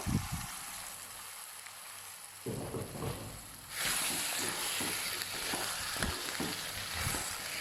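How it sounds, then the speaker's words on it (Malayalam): Cooked beef is stirred and fried in a pan, with a sizzle that grows louder partway through and repeated scraping strokes of a spoon. "ഇനി ഇതിലേക്ക് നമ്മൾ വേവിച്ച് വെച്ചിരിക്കുന്ന ബീഫ് ആഡ് ചെയ്ത് കൊടുക്കാം. നന്നായിട്ടൊന്ന് മിക്സ് ആക്കുക."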